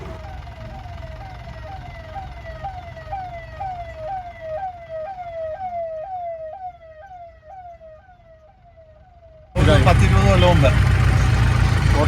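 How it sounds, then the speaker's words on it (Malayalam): Ambulance siren wailing in repeated rising sweeps from behind, in traffic on the road to Mangaladevi Temple near Kumily, Idukki, steady then fading slightly before a sudden loud burst of broadband noise near the end. "അതിനിടയിൽ ആർക്കും അപകടം പറ്റി ഒരു ആംബുലൻസ് പുറകിലുണ്ട് കേട്ടോ"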